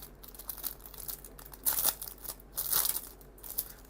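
A plastic packet of half pearl stones is handled up close. Its crinkles and rustles come in uneven bursts, some louder crackling peaks among softer rustling.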